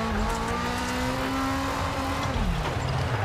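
Rally car engine in the EA Sports WRC racing game, a loud continuous drone with pitch sweeping up and down as the car revs through gear changes, heard alone throughout.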